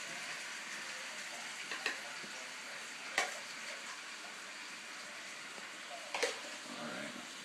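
Sauce sizzles steadily in a frying pan, a quiet, even crackle with a few sharper pops and clicks of stirring scattered through.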